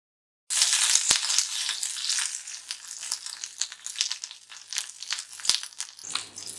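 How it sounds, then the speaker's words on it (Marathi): Capsicum frying in a kadhai after okra, a steady loud sizzle and crackle that starts abruptly and carries on with bursts of spattering and a couple of stirring knocks, then eases slightly near the end. "आता याच कढईत आपण ही शिमला मिरची थोडी भाजून घेऊ"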